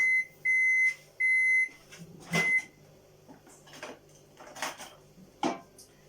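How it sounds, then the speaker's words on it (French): A microwave oven heats chocolate with marshmallows: three clear electronic beeps open, followed by scattered clinks and knocks of dishes and utensils handled nearby. "je vais le remettre dans le micro-ondes 45 secondes"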